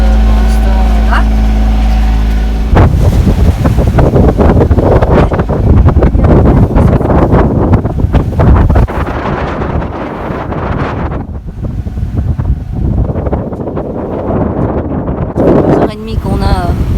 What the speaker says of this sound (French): Qu'on a du fort vent, ça n'a pas changé